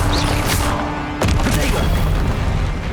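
Confringo blasting spell detonating in Hogwarts Legacy during a fight with a hulking troll, with a loud broadband blast and sharp burst around the midpoint over a steady roar of battle noise.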